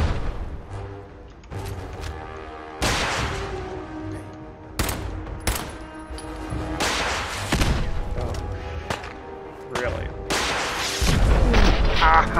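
A super mutant fires a rocket in the post-apocalyptic game Fallout 4, producing loud booming blasts and explosive thuds at irregular intervals mixed with gunfire-like bursts over a droning background.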